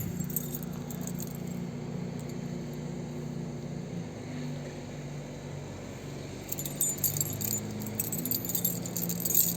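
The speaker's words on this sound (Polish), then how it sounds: "Już tu widzę pęk kluczy." A bunch of keys jangling and clinking at a scrapyard, with the metallic rattling growing busier near the end over a low background rumble.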